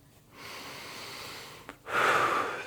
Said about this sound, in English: 6 breaths in through the nose, out through the mouth.